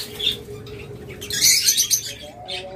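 A pair of albino pet lovebirds gives short, shrill chirps and squawks nearby, with a brighter burst of calls in the middle over a low background hum.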